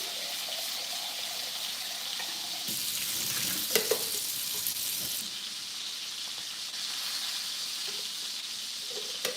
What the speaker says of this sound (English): Y'all hear that sizzle, sizzle?